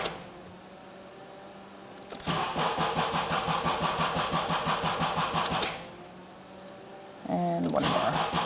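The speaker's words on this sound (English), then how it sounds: "You're going to crank the vehicle over about 4 times." A 2002-2006 Honda CR-V being cranked after a fuel pump module replacement: two long bursts of rhythmic starter churning, close and loud, separated by a quiet pause, with a third burst starting at the end.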